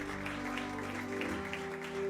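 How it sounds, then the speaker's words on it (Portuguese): A church congregation applauds steadily, a continuous patter of clapping layered over sustained organ or keyboard chords. "Você pode aplaudir bem forte o nome daquele que vive e reina para todo sempre"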